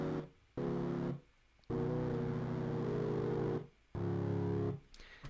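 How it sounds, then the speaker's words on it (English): Low, sustained synth drone blocks from an unused section of a song, steady and fairly loud, with three long swells broken by short near-silent gaps and no voices. "the low synth noise part for it is still here."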